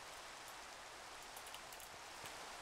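Steady rain falling in the Minecraft video game, a continuous even hiss of drops with a few faint ticks, filling the whole stretch without any talking.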